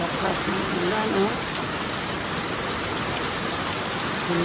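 Heavy rain pouring down outdoors in a steady, dense hiss on surfaces, with a brief voice and faint chatter early on underneath.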